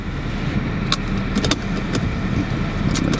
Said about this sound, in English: there's a very faint rumble going on under the hood, so you know you've got a V8 there